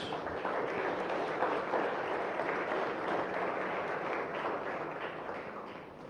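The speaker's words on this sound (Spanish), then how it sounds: "Dale una ofrenda de palmas a Jesús." A church congregation applauds during a sermon, sustained soft clapping from many people, even and somewhat distant, with no voices over it.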